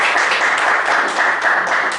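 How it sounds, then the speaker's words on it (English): A seminar audience on transfer pricing gives a steady, loud round of applause that fills the whole moment, dense clapping with no pauses and no talk over it. "Please thank the speaker for his valuable time and knowledge sharing with us. Thank him. Round of applause."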